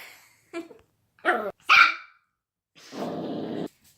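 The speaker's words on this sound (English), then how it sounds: "if you just heard that crazy bark, Paul is actually really mad at Honey" A puppy gives a few sharp barks, loud and close, in quick bursts followed by a longer harsh growling bark.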